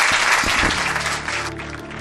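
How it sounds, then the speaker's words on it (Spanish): A live audience at a Spanish-language talk event applauds the host, a continuous wash of clapping at steady loudness for the whole stretch. "Os pido un aplauso para allá, para Laura Falcó, nuestra anfitriona."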